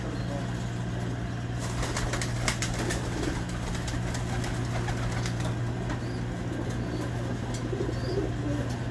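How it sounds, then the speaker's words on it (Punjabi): Pigeons coo softly amid a steady background hum, with occasional wing flaps and faint rustling throughout. "ਇਹ ਕਬੂਤਰ ਹੈ"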